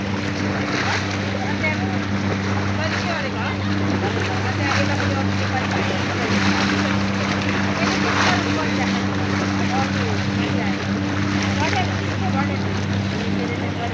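A small oil tanker ship at sea near the Maldives, with a steady low engine drone and tonal hum under constant wind buffeting and wash of water across the whole stretch.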